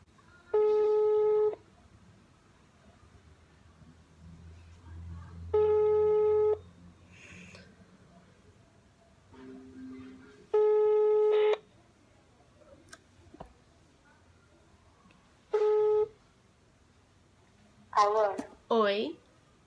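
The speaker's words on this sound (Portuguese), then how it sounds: "Agora eu tô ligando pra Laíssa. Vamos ver se ela atende" A telephone call rings out while waiting for someone to answer, four evenly spaced ringback tones a few seconds apart, clear and close, followed by a brief burst of voice at the end.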